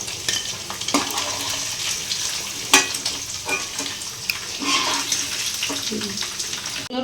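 Fish heads fry in hot oil for a Bengali cabbage curry, giving a steady, close sizzle with clatters of stirring and spatula scrapes and a few louder knocks against the pan.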